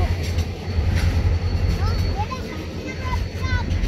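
A CSX freight train locomotive rolls past close by, a steady loud rumble of wheels and engine with brief metallic squeals, while people talk nearby.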